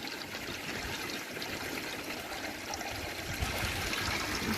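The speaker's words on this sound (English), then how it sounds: "It takes a little while to drain the bed." Water drains from an aquaponics grow bed in a steady trickling, splashing flow, close and continuous without pauses, with no one speaking.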